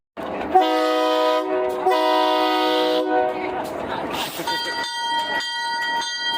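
A diesel narrow gauge train in Colorado prepares to leave town, sounding loud, sustained horn blasts near at hand, with a bell ringing and a voice heard underneath.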